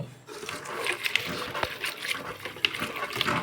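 Liquid is poured over chopped banana flower to make an NPK fertilizer solution, a close splashing trickle with small gurgles and drips, with a voice briefly heard.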